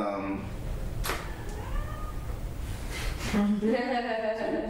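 A cat meows in a drawn-out, wavering way during a music workshop, with a shorter rising cry near the end. Background voices and room noise sit underneath.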